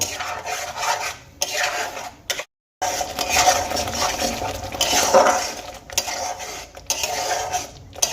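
A spice paste of onion, ginger, garlic and tomato is fried and worked in a pan, with continuous close scraping and clinking of a utensil against metal and a low sizzle underneath, briefly pausing once.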